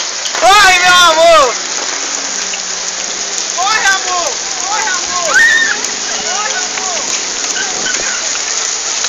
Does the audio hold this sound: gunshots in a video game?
no